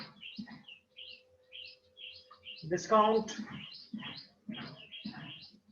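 Birds outside chirp steadily with short, high, repeated tweets, sounding at a moderate distance while someone talks over them.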